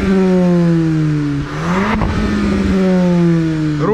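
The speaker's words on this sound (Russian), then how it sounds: "давай выхлоп пацанам покажем" A car's exhaust revs hard, its engine note climbing and holding steady, briefly dipping mid-burst before rising again; loud and close with no talking.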